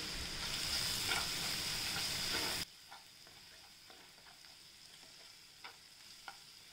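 Coriander and turmeric hit hot oil for a tempering, giving a loud, dense sizzle for a few seconds that then drops abruptly to a softer crackle with scattered small pops.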